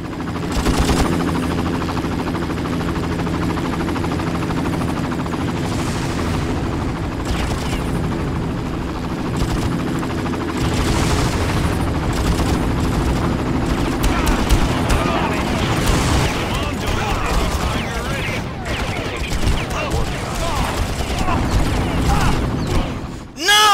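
Helicopter door gunner firing a machine gun in the video game Far Cry, heard as a constant loud rotor drone with rapid bursts of gunfire and booming impacts layered on top throughout.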